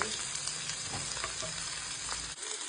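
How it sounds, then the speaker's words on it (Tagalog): Aromatics sauté in a pan for chicken and pork adobo, a dense, steady sizzle heard up close with faint stirring scrapes and no talking. "Gisayin muna natin bago natin ilagay ng ating pork ay ating chicken."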